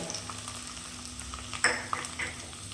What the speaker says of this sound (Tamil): இது இந்த கொஞ்ச நேரம் இந்த எண்ணெயிலே நல்லா வதங்கட்டும்